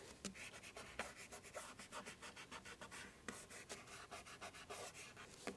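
Steady scratchy rubbing on vellum paper in quick, even back-and-forth strokes, faint and close, with no voices.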